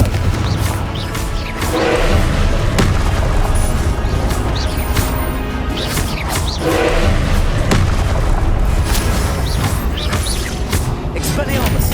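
Repeated booming spell blasts and thuds from Confringo, the explosive fire spell in Hogwarts Legacy, go off in a loud, dense combat mix that runs throughout.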